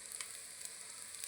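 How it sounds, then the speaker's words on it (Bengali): Corn fritters frying in hot oil in a home kitchen, giving a steady, faint, hissing sizzle with a few brief crackles and no talking. "ভুট্টার বড়া ভাজবো"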